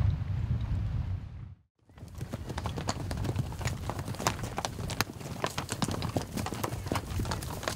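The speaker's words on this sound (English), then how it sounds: "It's a sight that never gets old, a stampeding horse herd." A stampeding herd of horses at Rimrock Ranch near Yellowstone gallops past. A dense, continuous drumming of hooves rises after a brief lull and stays loud and close.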